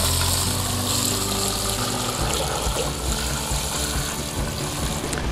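Buckets of water are poured into a planting hole around a freshly divided rose bush seedling, making a continuous close splashing and trickling that lasts several seconds with no speech.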